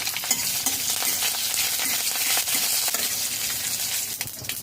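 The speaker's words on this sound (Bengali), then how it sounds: "কড়াইতে সর্ষের তেল দিয়েছি শুকনো লঙ্কা সাদা সর্ষে কারি পাতা হিং দিয়ে দেবো" Dried red chillies, white mustard seeds, curry leaves and asafoetida sputter and sizzle in hot mustard oil in a kadai, a steady close crackling hiss with the small pops of the seeds and the clink of stirring.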